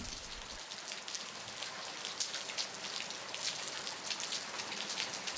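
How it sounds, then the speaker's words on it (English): Steady rain patters on a surface, a soft continuous hiss with scattered drop taps throughout. "Night came, rain came."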